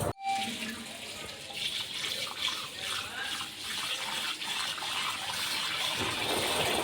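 Water runs and splashes steadily as 1.5 kg of rice is washed for a clay-pot matka beef pulao. The flow is continuous and close, with no one speaking.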